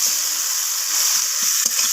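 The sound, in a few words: chopped onions frying in oil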